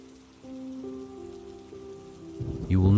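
Soft, steady rain falls continuously in the background while a calm voice speaks gently over it, with a low sustained musical tone beneath.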